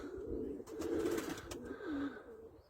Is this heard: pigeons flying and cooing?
yes